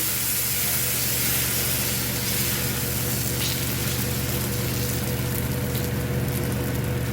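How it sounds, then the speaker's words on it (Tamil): Wheat flour adai dosa batter hits a hot griddle with a steady, even sizzle and hiss that continues throughout at moderate level, close by, with no speech. "தோசைக்கல் காய வச்சுட்டேன் இப்போ கோதுமை மாவு தோசை அடையை ஊற்றிக்கலாம்"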